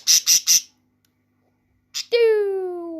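A pet bird gives three loud, harsh squawks in quick succession, then after a pause a short squawk and a longer, falling, whistle-like call, close to the listener with no talk.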